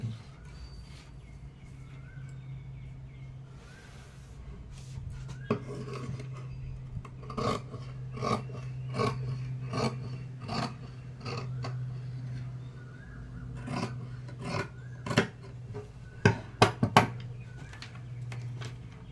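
Scissors cut blouse fabric inside a chalk marking, making a series of crisp snips and rasps, sparse at first then coming in quicker clusters, over a low steady background hum.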